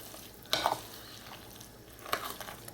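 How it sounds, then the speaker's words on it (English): Cassava flour and baking powder are folded into a cauliflower cheesy muffin batter, with two soft, close scraping stirs of a utensil through the thick mix against the bowl, separated by a quiet pause over low room noise. "Fold that into the mixture."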